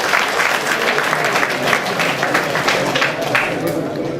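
A crowd gives a big round of applause at a leadership training session, with sustained, fairly loud, even clapping and faint voices blended in.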